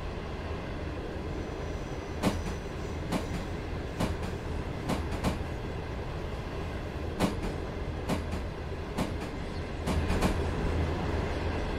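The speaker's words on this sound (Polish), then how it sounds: "Zdalnie sterowana lokomotywa." A remote-controlled locomotive rolling along the line in the MaSzyna train simulator, a steady rumbling drone with sharp periodic clacks of wheels over rail joints, evenly spaced and fairly loud throughout.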